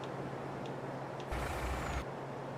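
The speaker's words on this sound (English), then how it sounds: "Okay, let's try this new truck out" A truck engine in Farming Simulator 22 on the Big Flats Texas map: a steady low rumble with a short, louder burst of hiss or revving partway through, heard alone.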